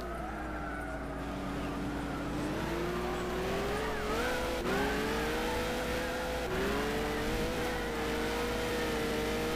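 Peugeot 908 race car lapping in Gran Turismo 6, a loud steady engine whine rising and falling as it shifts through gears, with faint tire noise and no voices.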